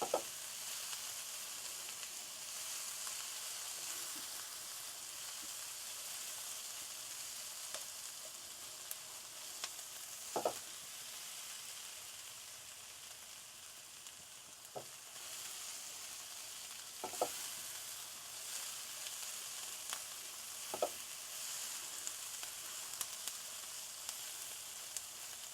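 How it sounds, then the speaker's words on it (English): Onions frying in a pan for a lamb curry, a steady soft sizzle running throughout with occasional faint clicks and stirring scrapes, close and fairly quiet, no talk. "Just waiting for the onions to cook."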